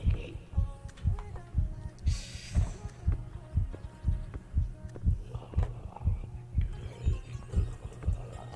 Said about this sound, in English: My heartbeat's going mental.